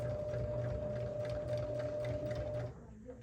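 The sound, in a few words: sewing machine stitching across the bottom of a tote bag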